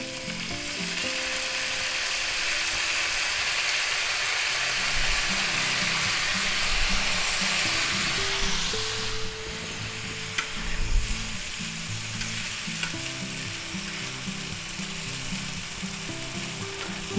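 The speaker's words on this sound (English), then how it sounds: "to that we're going to add our vegetables" Mixed vegetables stir-frying with garlic in a hot pan, a loud continuous sizzle with rhythmic scraping and tossing of a spatula, no talking.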